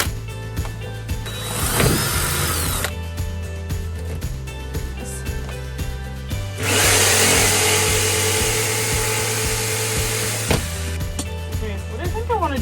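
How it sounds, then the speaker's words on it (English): Power drill boring pilot holes in a marked circle during a Cubic Mini woodstove install, two bursts of whining motor noise with a steady low hum beneath, the second run longer and louder. "now I have to drill a few holes in order to get my jigsaw in there to be able to cut it out"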